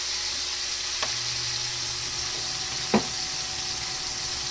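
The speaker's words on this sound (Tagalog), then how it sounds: "piniprito pa lang natin yung ating labahita" Labahita fish frying in a pan, a steady broadband sizzle running throughout with a couple of brief clicks or taps, fairly close and even in level, no talking.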